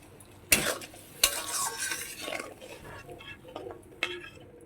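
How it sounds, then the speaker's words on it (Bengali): Mustard paste fries in a pan while a utensil stirs and scrapes it, with a soft steady sizzle and a few sharp clinks against the metal, close by and with no talk. "সর্ষে বাটাটা অ্যাকচুয়ালি একটু ভাজতে হয় আমার হিসেবে আর কি, তেল তেল বের হয় ভাজলে সত্যি।"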